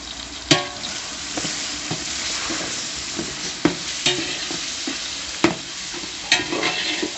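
Onions and tomatoes sautéing with ginger garlic paste in a pot for a Madurai-style kaadai (quail) gravy, a loud, steady sizzle broken by repeated clanks of a spoon stirring against the vessel.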